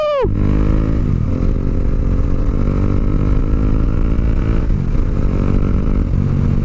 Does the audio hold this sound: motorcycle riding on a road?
yes